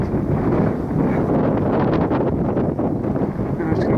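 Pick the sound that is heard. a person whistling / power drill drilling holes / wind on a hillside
wind on a hillside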